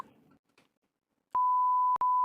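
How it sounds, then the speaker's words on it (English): A loud, clean electronic beep sounds three times in a quick run, one long tone then two shorter ones, after a brief stretch of muffled talk and near-silence. "I heard the beep."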